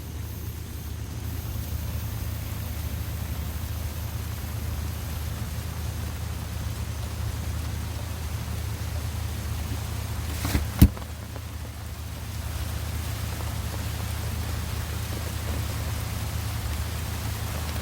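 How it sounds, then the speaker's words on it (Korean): Steady, even hiss of heavy rain pouring throughout, broken once by a single sharp click partway through. "말 끝나기가 무섭게 비가 막 내립니다."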